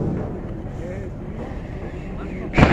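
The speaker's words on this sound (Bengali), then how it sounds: "এটা হচ্ছে ট্রলার।" A trawler boat's engine drones low and steady close by, with voices talking over it and a short loud bump at the end.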